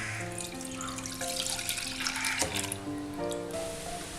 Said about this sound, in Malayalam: പാല് നമുക്ക് സോസ് പാനിലേക്ക് ഒഴിക്കാം.